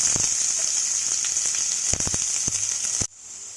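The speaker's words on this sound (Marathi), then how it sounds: "ते कढीपत्ता आता त्याच्यामध्ये कांदा टाकून परतून घेऊया" Onion, garlic and curry leaves frying in oil in a pan, a loud bright continuous sizzle with scattered crackles and spoon taps, close up, dropping suddenly quieter near the end.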